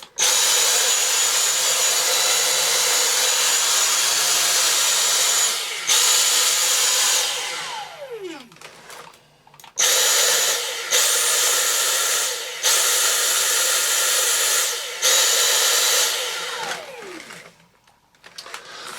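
A Dyson V6 Animal cordless vacuum cleaner motor whirs loudly with a battery fault, repeatedly cutting out and surging back in an uneven pulsing rhythm, with brief drops and pitch sweeps as it spins down.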